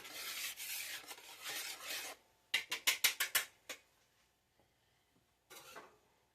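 Faint scraping and rustling bursts, then a quick run of sharp knocks and clatters as pet birds bang around in their cage, with brief quiet gaps between.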